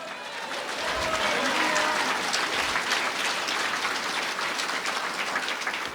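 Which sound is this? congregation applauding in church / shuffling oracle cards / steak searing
congregation applauding in church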